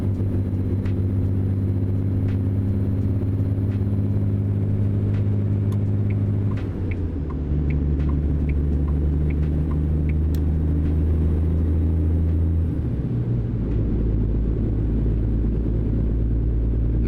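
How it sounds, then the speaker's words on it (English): A heavily loaded truck in American Truck Simulator strains uphill. Its deep engine drones steadily and loudly, dropping in pitch at two gear changes, with no talking. "This truck probably shouldn't be hauling whatever cargo it's hauling if it takes this much time to speed up on this hill."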